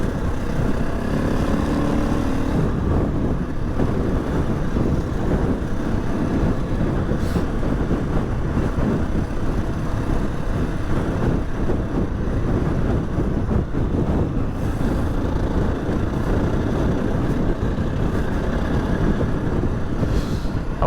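A trial or enduro motorbike rides the moorland track of Rudland Rigg, its engine and the wind making a loud, continuous roar that holds steady and close throughout, with no voices.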